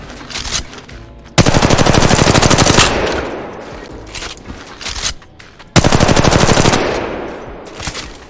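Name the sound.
gunfire from a gun in video game Apex Legends Mobile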